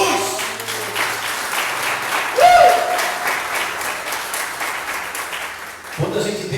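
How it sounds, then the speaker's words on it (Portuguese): A church congregation applauding during a sermon: a sustained wash of clapping at moderate level, with a brief tonal sound near the middle and a voice returning at the end. "Aplauda Jesus!"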